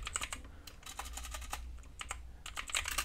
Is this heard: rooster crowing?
no